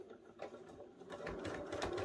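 A sewing machine chain-stitches quilt fabric, its needle ticking in a quiet, rapid, even rhythm that grows slightly louder and faster toward the end.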